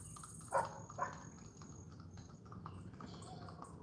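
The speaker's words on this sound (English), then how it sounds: "You see the guy riding on the horse" A horse carrying a rider clip-clops along a street in Puerto Rico, two sharp hoof strikes standing out near the start, then fainter steps under a steady outdoor background hum.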